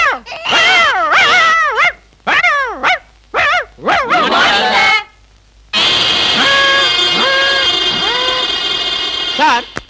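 A voice imitates dog barks and whimpers in short bursts in a Telugu comedy film scene, followed by sustained music with pitched tones.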